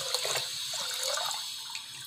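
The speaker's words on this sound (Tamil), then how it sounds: "இதில் தண்ணி ஊற்றிக்கலாம்." Water streams steadily into a pressure cooker that already holds rice and dal, a continuous splashing pour at close range with no voices over it.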